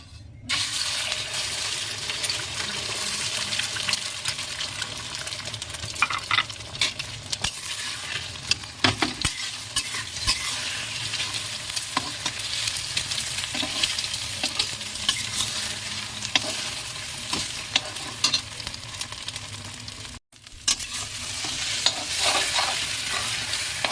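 Egg mixture crackles and hisses in a hot wok for a long stretch, broken by occasional clinks and scrapes of stirring.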